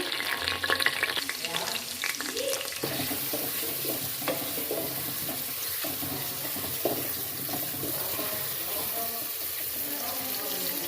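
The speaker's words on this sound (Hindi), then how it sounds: "अब इसमें हम प्याज डालेंगे और प्याज को हम फ्राई कर लेंगे।" Steady sizzling of onions frying in hot oil, with occasional stirring scrapes and clatter, close and continuous throughout.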